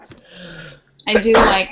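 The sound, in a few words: sneeze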